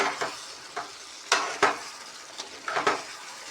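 A spoon scrapes back and forth through a pan of frying North Karnataka style stuffed capsicum curry to keep it from sticking. Sharp, irregular scrapes and clinks sound close over a soft sizzle.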